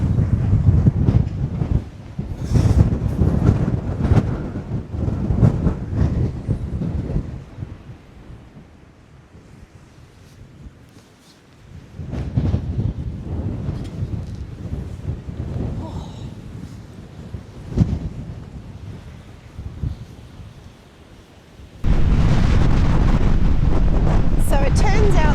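Gale-force wind buffets the microphone outdoors in New Zealand, a loud rumbling roar that rises and falls in long gusts, drops briefly, then returns as a steady heavy blast near the end; there is no speech.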